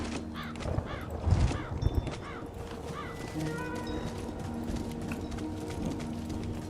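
Horse hooves clip-clop in the video game Lightbringer Awoken, a short run of soft steps that is loudest early and then fades into steady ambient game sound with faint tones.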